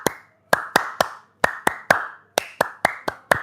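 Hand clapping in short bursts of two to four sharp, close claps separated by brief pauses, loud and crisp with a slight room ring after each clap and no other sound between.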